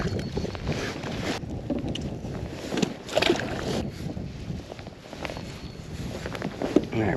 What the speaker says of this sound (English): this wind really never calmed down